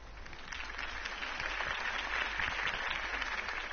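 A crowd applauds after a Harvey Dent campaign speech, a continuous wash of many hands clapping, slightly distant and muffled, swelling a little and holding steady.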